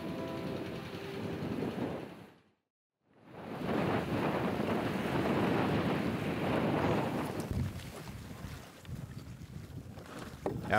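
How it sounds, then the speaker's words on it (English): A repaired boat under way at sea, with broad rushing water and wind noise against the hull, briefly cutting out before returning in a steady roar that thins toward the end. "After days of repairs, the boat is finally able to sail."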